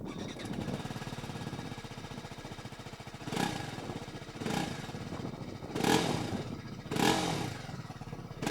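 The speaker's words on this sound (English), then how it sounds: "here's what the new RR 310 sounds like" A BMW RR 310 motorcycle's exhaust rumbles at idle, a steady low burble punctuated by four quick throttle blips that swell and fade, heard from close by with no voices.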